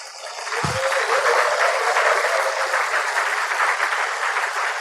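An audience at an Amway business presentation breaks into sustained applause that swells within the first second and holds as a broad, even roar of clapping, loud and unbroken to the end.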